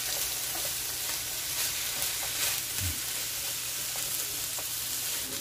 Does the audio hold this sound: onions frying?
yes